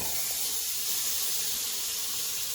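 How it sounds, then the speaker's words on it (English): Green beans steam in a pot on a camp stove outdoors, giving a steady, loud, unbroken hiss throughout with no voices. "Got some green beans steaming."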